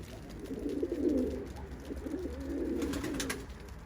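Pigeons coo in soft, repeated low rolling phrases, two clear bouts close by, from a grey Turkish pigeon line kept in a loft.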